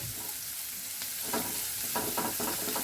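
A bread snack mixture with green peas frying in a wok-style pan, a soft steady sizzle joined by a run of rhythmic stirring scrapes toward the end, close by with no voices.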